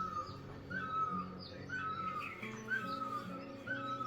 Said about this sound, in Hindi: थोड़ी देर में सनराइज होने वाला है और पक्षियों की चहचहाट सुनिए